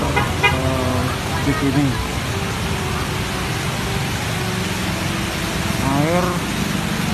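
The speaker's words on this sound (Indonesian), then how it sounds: "Kemudian dalam keadaan macet karena banjir di bawah flyover" Jammed road traffic under a flooded Jakarta flyover: a steady engine and tyre rumble with a few short horn toots near the start and end, while someone talks over it.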